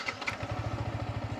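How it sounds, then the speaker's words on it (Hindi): A Yamaha MT15 V2.0 motorcycle engine turns over and settles into a quick, even low throb, heard close and moderately quiet with a brief clatter at the start. "अब बाइक को कर लेता हूँ मैं एक बार स्टार्ट,"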